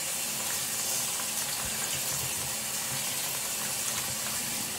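Running water rinses an object picked up from the ground outside, a steady close splashing flow that continues without pause.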